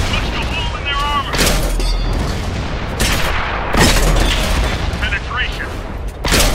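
Tank cannon shots from World of Tanks boom loudly several times, heavy blasts with crackling gunfire layered in the game mix, joined by a voice speaking over the combat.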